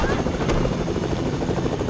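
Helicopter in a multiplayer video game, its loud steady rotor and engine drone filling the moment while players talk over it.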